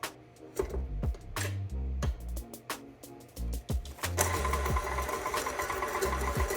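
An electric kitchen mixer whirs in short bursts as it beats granulated sugar into banana chocolate chip muffin batter, with stop-start motor pulses followed by a steadier continuous run near the end.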